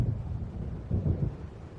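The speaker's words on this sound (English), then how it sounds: "It seems there's a storm coming." Low rumbling of an approaching thunderstorm in the game Alan Wake Remastered, a steady deep roar with wind-like swells that rise briefly near the end, moderately loud and free of talk.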